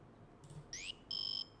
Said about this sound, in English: let me just hold the buzzer next to the microphone here